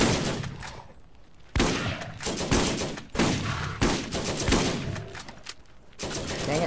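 Submachine gun fire in the video game Borderlands, several loud bursts of rapid shots with sharp onsets, separated by short gaps.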